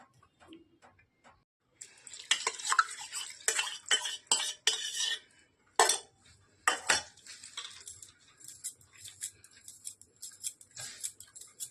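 Homemade ghee stirred by hand in a pot, with irregular metallic scraping and clinking of a spoon against the pot, close and fairly quiet, in bursts with pauses.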